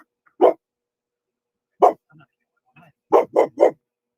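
A dog barks loudly nearby, first in single barks spaced apart, then in a quick run of three, with faint low sounds between.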